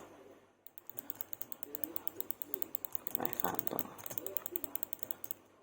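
Rapid keyboard clicks tapping away close by, with someone speaking over them and a faint bird cooing in the background.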